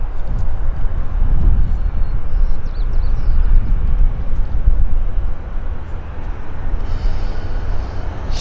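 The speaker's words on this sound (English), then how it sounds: "we got another WestJet coming out, heading to Calgary in the background" A WestJet airliner departs Vancouver airport bound for Calgary, its jet engines a steady, loud low rumble that swells early and then holds as a broad roar.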